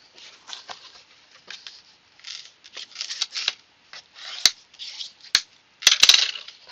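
Scored paper card for a note card box being burnished: soft, close rubbing and scraping strokes in irregular bursts, with several sharp clicks toward the end.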